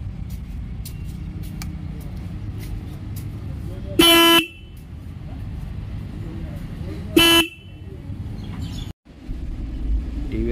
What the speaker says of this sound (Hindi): इस रॉन इन में सिंगल हॉर्न मिलता है, हम इसको प्रेस करके दिखाएंगे।